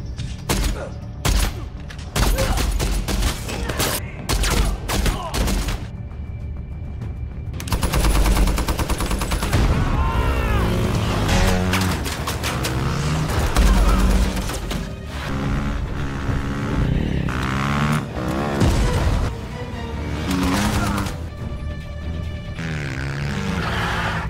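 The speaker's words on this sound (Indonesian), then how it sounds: "Di saat sedang baku tembak, Lee" A film shootout opens with sharp bursts of rapid gunfire, then dense loud action with heavy impacts, rumble and blasts, and shouted voices in between.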